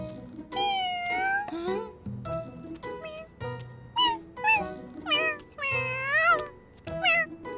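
A cartoon cat meows repeatedly in an animated children's show, giving a rapid series of expressive, pitch-bending meows close up, with faint background sounds between them.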